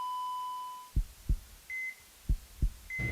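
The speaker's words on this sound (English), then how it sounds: "Her heartbeat returned just as Dr. Thompson rushed in." A heartbeat sound effect gives four or five soft, low thumps in uneven pairs, mixed with electronic beeps from a hospital monitor and a steady tone at the start.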